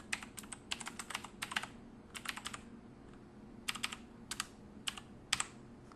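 A username is typed on a computer keyboard in quick, close bursts of crisp key clicks separated by short pauses, fairly quiet overall and with no talking.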